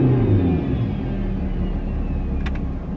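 An old car's engine rumbles steadily at close range, a low, continuous idle-to-rev drone with no clear rise, and no one speaks over it.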